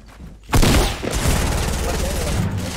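Gunfire bursts out in a Fortnite match, a loud sustained fusillade of rapid shots starting abruptly and continuing steadily, with players talking over it.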